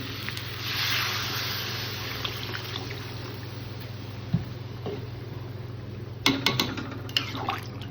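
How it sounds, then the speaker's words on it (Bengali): Water poured into a cooking pot of braised curry in a home kitchen, a faint steady trickle under a constant background hum, followed by a few louder clinks and splashes near the end. "এবার দিয়ে দেবো জল জলটা ঢেলে দিচ্ছি"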